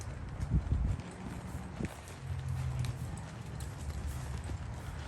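A horse's hooves clip-clop at an easy walking pace, steady and fairly faint, with a low rumble of movement underneath.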